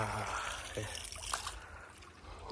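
Water trickles and gurgles along an irrigation channel between field ridges, steady and fairly close, with faint voices in the background.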